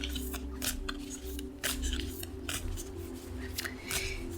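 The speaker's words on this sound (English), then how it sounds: "So I usually shuffle until a card falls out." Oracle cards being shuffled by hand, giving quiet, rapid papery flicks and riffles in irregular bursts over a faint low hum, close and soft.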